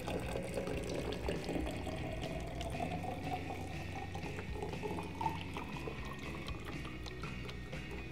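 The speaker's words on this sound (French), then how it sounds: "Je vais donc rajouter de l'eau plus simplement jusqu'à la graduation 250 ml." Water is poured steadily into a film developing tank up to the 250 ml mark, giving a continuous soft gurgling trickle, close and moderately quiet, with no pauses.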